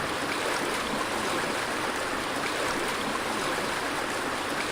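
Shallow brook water flows in a Wii fishing game's brook area, an even, continuous burbling rush heard up close and alone, with no talk or other sounds.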